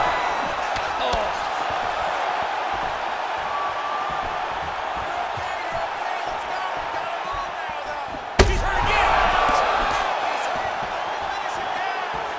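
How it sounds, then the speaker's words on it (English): Arena crowd in the UFC 5 video game reacting to heavy strikes in a Gilbert Burns versus Leon Edwards bout, a steady roar under commentary with a sharp impact and louder swell near the end. "You hear the crowd react every time they come together because they understand the power that these guys are striking with."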